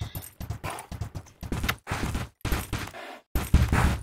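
Rapid, busy clip-clop of galloping horse hooves in bursts in the video game Bella Sara, close and loud, with short silent gaps between runs.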